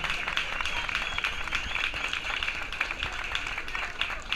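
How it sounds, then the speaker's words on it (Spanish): An audience applauds a flamenco dancer at a season-closing performance. Dense, steady clapping runs nonstop and loud throughout, with no break. "Fuerte aplauso a ella."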